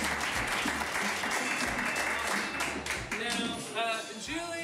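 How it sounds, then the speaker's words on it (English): A live audience at a game-show event applauds Julie and Nick, with a dense, sustained wash of clapping from many hands that carries on throughout. Voices surface near the end beneath the applause. "So give them a round of applause."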